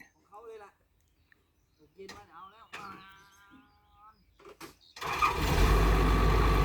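A dirt bike engine fires up and runs loud and steady while its rpm is being set, rising sharply after a stretch of talking and filling the rest of the moment up close.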